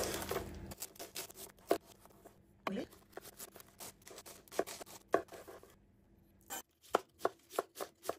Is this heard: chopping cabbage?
yes